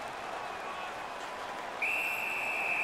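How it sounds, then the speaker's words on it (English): Referee whistle in an NHL 15 ice hockey video game, a sharp sustained shrill tone starting partway through over crowd noise and arena ambience. "Puck covered, whistle blown."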